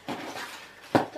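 A heavy metal pan from a Wizardry-themed geek subscription box is lifted out, giving a soft rustle and then one sharp, close metallic clank near the end.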